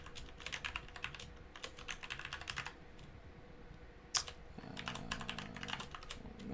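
Quiet typing on a computer keyboard while writing code, with irregular bursts of soft key clicks and a brief sharper tap partway through, heard alone without speech.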